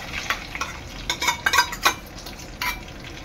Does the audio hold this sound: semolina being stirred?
yes